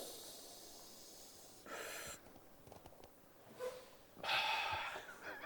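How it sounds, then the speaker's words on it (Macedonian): A person snorts sharply in a few separate bursts, loud and close, with quieter breathing and hiss between them. "Можеш да го шмркаш, ова е здраво за шмркање."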